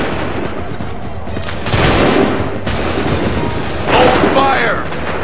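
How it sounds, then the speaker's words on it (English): Musket volleys crack out in a Revolutionary-era battle scene from the Assassin's Creed 3 video game, with dense overlapping gunfire rising in two loud bursts over a constant background of battle noise and shouted commands. "Open fire."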